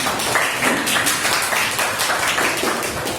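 Classroom applause for a student group, a steady dense patter of many hands clapping close by that carries on without a break for the whole stretch.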